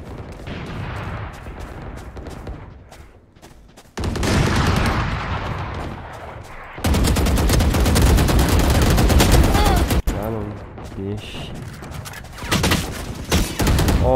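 Rapid gunfire from weapons in the tactical shooter game Valorant, with loud, dense bursts of repeated shots that swell into sustained automatic fire, then break off into scattered shots.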